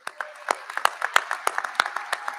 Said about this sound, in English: Graduates, please join me in a round of applause for the friends and family that helped you get to where you are today.